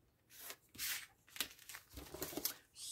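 Scissors cut down a paper bag to form a booklet pocket, giving quiet crisp snips and papery crinkling in irregular bursts, close and soft, with no talking.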